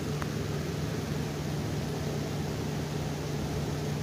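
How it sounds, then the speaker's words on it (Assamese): Onions frying with ginger-garlic paste in a pan give a steady, dense sizzling hiss that holds evenly throughout, over a low, constant hum. "এয়া ভালদৰে লৰাই লৰাই ভাজি আছোঁ"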